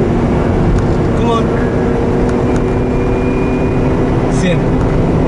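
A 1993 Peugeot 505 SRI 2.2 automatic accelerates from inside the cabin, a steady, loud engine and road roar with faint squeaks and rattles, no clear shift audible.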